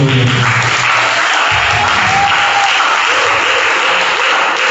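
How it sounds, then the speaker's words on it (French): A church congregation at a prophetic service applauds to acclaim the name of Jesus Christ, with loud, dense clapping and cheering that fills the whole stretch without a break. "Est-ce que tu peux acclamer le nom?"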